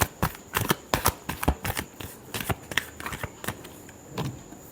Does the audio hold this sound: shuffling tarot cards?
yes